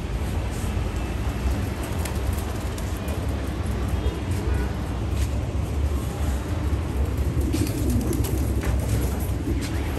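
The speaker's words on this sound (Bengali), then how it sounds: "এই কবুতরগুলো উড়াই দিলাম টাঙ্কিতে দেখেন কতগুলো বসছে" Racing pigeons released at home, flying and settling on a tank, with soft cooing and bird calls over a constant dense background, along with indistinct voices nearby.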